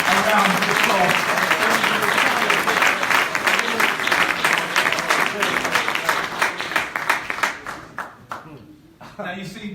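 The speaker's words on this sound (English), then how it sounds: "Let's give our beloved brother a round of applause." A mosque congregation gives a round of applause during a student ministry class, loud dense clapping with voices mixed in, thinning into scattered individual claps before fading near the end.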